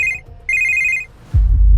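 An incoming call sets a telephone ringing in two bright electronic bursts separated by a short gap, followed by a heavy low thump near the end.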